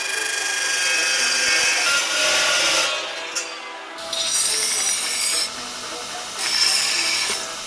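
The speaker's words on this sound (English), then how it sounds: "So we're gonna cut probably 3/4 of an inch off of this side." Cutting a part for the exhaust of a supercharged V8 burnout box truck: steady rasping, sawing-like cutting in loud bursts, pausing briefly near the middle, then resuming in two more stretches, close by with no talk.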